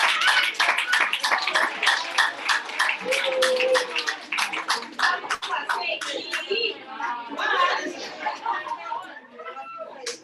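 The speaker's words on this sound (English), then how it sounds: "let's give a big round of applause." Scattered clapping at a kick-off meeting in Uganda, sharp claps in a quick rhythm that thin out and give way to chatter and children's voices as the applause fades.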